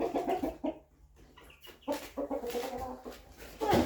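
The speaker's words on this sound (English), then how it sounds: "All right, you two full-grown chickens need out." Two full-grown chickens cluck in close, choppy bursts as they are let out of a cage, the calls rising and falling over a few seconds with a louder flurry at the end.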